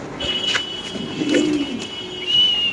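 Soft, low cooing from a modern fancy pigeon, close but quiet, over a faint steady background hum with no talking.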